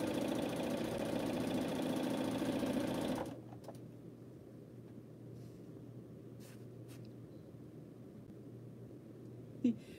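A sewing machine stitches a quilt block, running loud and steady for about three seconds and then stopping, leaving a quiet room hum with a few faint clicks.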